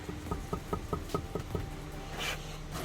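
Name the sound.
brick being knocked into place while bricklaying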